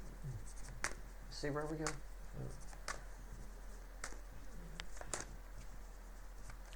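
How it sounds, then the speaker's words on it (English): Tarot cards shuffled by hand in a quiet room, giving soft riffling patter and sharp tapping clicks scattered across the clip while a person talks quietly over them. "I'm done shuffling."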